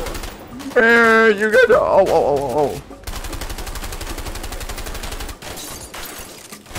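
Rapid automatic gunfire in the co-op action game A Way Out, a dense steady rattle through the second half, following an excited voice shouting over music-like tones, with brief speech mixed in.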